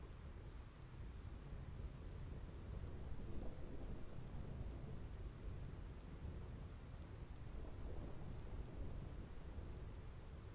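Storm ambience in Final Fantasy X's Macalania area near the Thunder Plains, a steady dense roar of rain and rumbling thunder that holds at an even level throughout with no distinct single crack.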